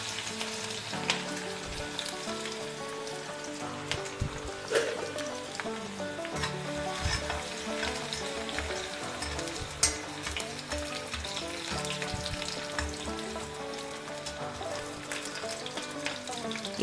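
Finely chopped ginger and garlic fry in hot oil for suvarotti, giving a dense, continuous crackling sizzle with scattered pops and occasional stirring knocks close by.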